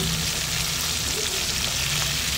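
Marinated sea fish frying in a pan with lemongrass and chili gives a steady, close, loud sizzle with faint oil crackles throughout.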